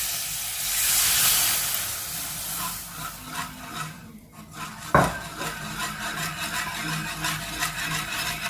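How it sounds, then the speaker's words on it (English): Butter and flour roux being stirred as 600 ml of milk is added bit by bit for a chicken lasagne sauce, with hissing, wet rubbing and a few utensil scrapes against the pan, one sharper knock partway through. "Once butter and flour get mixed well, add 600 ml of milk, but gradually."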